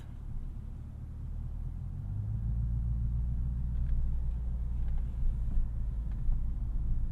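A 2016 Lexus GS F engine pulls away from a stop, a low muffled rumble heard from inside the cabin that swells and thickens after the first couple of seconds, then holds steady.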